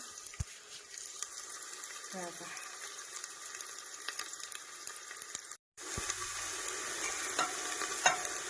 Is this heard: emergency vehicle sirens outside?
no